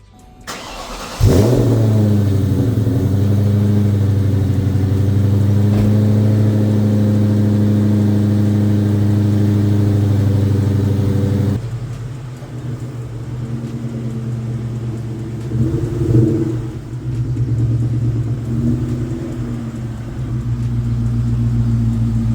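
A 2003 Ford SVT Cobra engine cranks and catches, then settles into a loud, steady low idle with a deep rumbling tone. Its pitch drops partway through, and a couple of short revs rise near the end.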